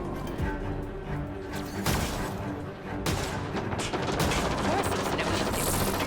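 Gunfire in the sci-fi shooter Mass Effect: Andromeda, with repeated shots and bursts of fire, explosive impacts and busy combat noise running densely throughout, and a voice speaking over it.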